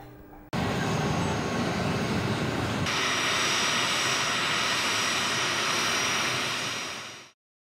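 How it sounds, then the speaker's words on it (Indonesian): A Boeing 737-400 presidential aircraft roars steadily and loudly for about seven seconds, a broad continuous engine rush that fades out abruptly at the end. "Wuri Ma'ruf Amin beserta rombongan dengan menggunakan pesawat khusus kepresidenan Boeing 737-400 TNI AU lepas landas"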